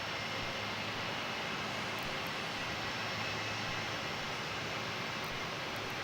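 A China Southern airliner taxis at Melbourne Airport, heard as a steady, broad roar of jet engines that stays constant and fairly distant with no talking.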